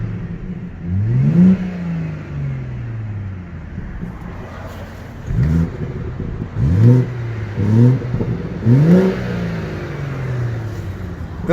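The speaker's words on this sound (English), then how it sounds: "Those inline sixes, especially the modern inline sixes from BMW, like the N55, the B55, the B58, just incredible sound" A 2017 BMW 340i xDrive M-Sport with its inline-six engine revs repeatedly, several sharp rising blips spaced over a steady idle, close and loud with no talk.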